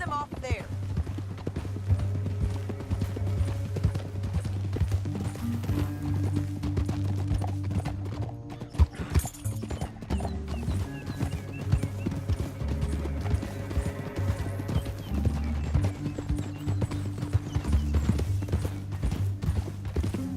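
Horse hooves clip-clop in a steady rhythm while riding in Red Dead Redemption 2, mixed under game music and character voices talking over the ride.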